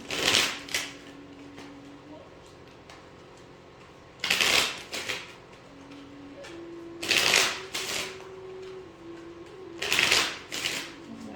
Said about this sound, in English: Pull a few tarot cards